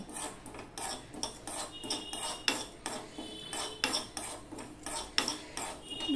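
Sesame and poppy seeds dry-roast in a hot pan on a gas stove, stirred with rhythmic scraping and clinking strokes that sound close and clear, with no talking.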